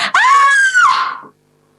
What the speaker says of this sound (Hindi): सबसे पहले मैं एक जोरदार चीख मारूंगी